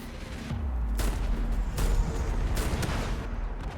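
Heavy bursts of automatic gunfire and booming impacts in a Warface raid, aimed at an incoming turret, with several loud sharp volleys over a rumbling low background.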